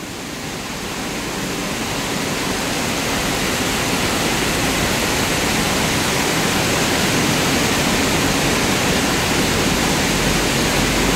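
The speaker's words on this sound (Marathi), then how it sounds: "पावसाने पण जोर धरलेला आहे" Heavy monsoon rain pours down on a truck journey in the Konkan region, a dense, loud, continuous roar of falling water that builds slightly at the start and then holds steady, with no talking.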